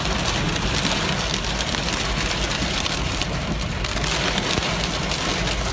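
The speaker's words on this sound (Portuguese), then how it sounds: "O granizo atingiu com força os para-brisas." Dense, steady pelting of hailstones drumming on car windshields, a continuous loud clatter of hail striking glass, with no voices.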